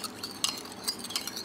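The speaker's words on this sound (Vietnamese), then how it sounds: "Rồi mình sẽ đảo đều lên cái hỗn hợp này hòa tan vào nhau luôn nha." A spoon stirs a fish sauce mixture in a bowl, producing light repeated clinks and scrapes against the side in a quick irregular rhythm, quiet and close, with no talk.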